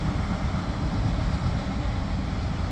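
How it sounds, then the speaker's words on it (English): A morning train passing nearby, heard as a steady low rumble and roar that holds at an even level throughout, with no voices over it. "There goes the train, guys."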